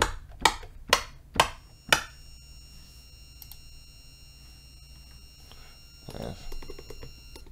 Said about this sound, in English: See just a clap here